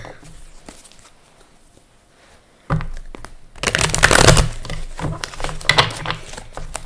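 A deck of tarot cards being shuffled close up: faint papery rustles at first, then a burst of dense crisp riffling and flapping that continues in uneven bursts, with no voices.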